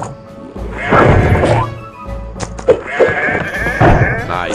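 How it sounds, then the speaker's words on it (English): A cartoonish cow in the VR combat game Crumbling lets out repeated bleating, mooing calls over game music, with crashing hits and thwacks of combat mixed in and a player talking between the sounds. "The cow is so funny to me."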